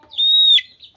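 A crested chicken giving a single short, high, clear call, close and fairly loud, lasting under half a second before quiet returns.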